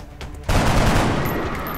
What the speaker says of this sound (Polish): Drugi strzał.